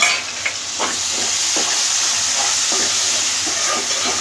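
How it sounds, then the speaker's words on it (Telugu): Tomatoes sizzle in a hot pan for a mango curry, a steady loud frying hiss with a few light stirring clicks, close up and without talking. "ఇంట్లో కొంచెం ఇప్పుడు టమాటో వేసేసుకుందాం."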